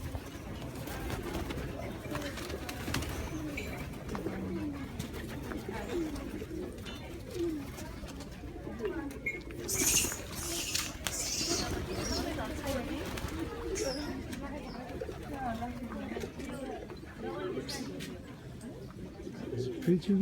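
Pigeons coo repeatedly at Swayambhunath temple in Kathmandu on an earthquake-damaged morning, soft low calls mixed with scattered chirps over a busy outdoor murmur of voices and movement.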